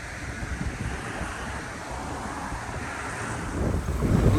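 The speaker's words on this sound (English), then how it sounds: "Man, that wind is so crazy." Strong, steady wind gusting across open Swedish wilderness, buffeting the microphone with a continuous low roar that swells louder near the end, with no voices.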